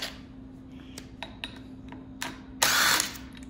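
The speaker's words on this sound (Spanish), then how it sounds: "lo primero que vamos a proceder es con quitar estos tornillitos," Small brake screws are taken off an electric bicycle with a hydraulic-brake kit, giving soft close clicks and ratcheting ticks with a steady low hum underneath, then a brief louder whir near the end.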